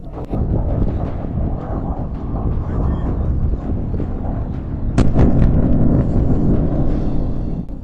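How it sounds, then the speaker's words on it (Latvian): A huge explosion on the eastern front in Ukraine: one sharp blast booms out about two-thirds of the way through, over a constant rumbling background, and the louder din lingers afterward. "Šo milzīgo sprādzienu nofilmēja Ukraiņu karavīrs kaut kur austrumu frontē pavisam nesen."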